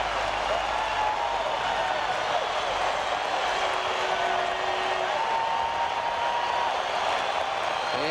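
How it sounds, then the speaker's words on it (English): Continuous crowd noise fills a 1995 Anaheim baseball stadium as thousands of fans cheer through each pitch of a pennant race game, a broad sustained roar with no clear breaks. "This crowd responding pitch by pitch."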